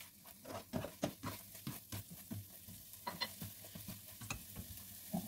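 Vegetables and chicken fry in a wok for spring roll filling, with a soft sizzle under frequent, uneven scraping and tapping stirs of a spatula, quiet and close.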